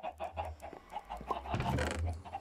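Chicken clucking in Minecraft, a repeated short clucks at moderate distance over a low ambient drone, with a brief louder burst of in-game noise near the middle.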